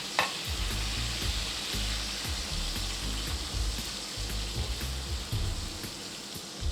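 Roughly chopped onions frying in oil for beef biryani produce a continuous bright hiss and crackle, with soft low thumps of stirring underneath.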